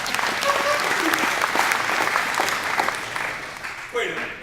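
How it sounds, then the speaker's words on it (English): Audience applause in a room after a Pacific Legal Foundation attorney's talk on the Obamacare Supreme Court case, steady dense clapping filling the whole stretch, with voices mixed in and a brief dip near the end. "you're applauding me for standing in line?"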